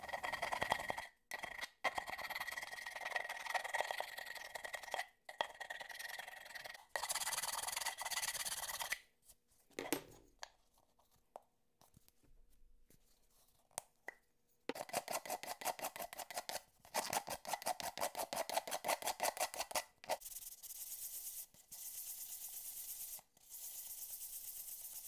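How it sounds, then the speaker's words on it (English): A rasp files out the insides of dowel holes in a tiki armature with rhythmic, close scraping strokes that come in bursts separated by short pauses. "I'm going to use a rasp and go in there and file out the insides and file down everything else"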